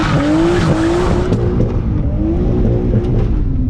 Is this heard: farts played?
no